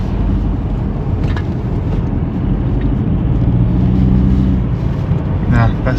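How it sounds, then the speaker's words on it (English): An Audi RS6 being driven on a bypass after repair gives a loud, steady interior rumble of engine and road noise. A voice is heard partly over it. "We're going to go for a spin and see if this is driving as it should do."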